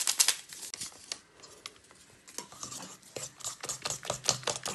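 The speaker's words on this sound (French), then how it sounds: "On mélange." A utensil clinks and scrapes steadily against a bowl while banana pancake batter is mixed, close up, in an irregular series of light knocks and swishes.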